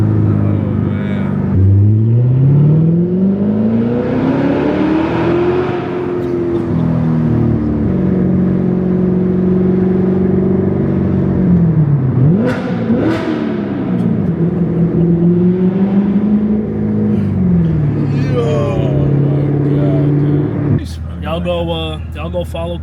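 Chevrolet Corvette C7 Grand Sport with clear exhaust, a loud deep rumble rising and falling through several long revs and a sharp blip, with people talking over it throughout.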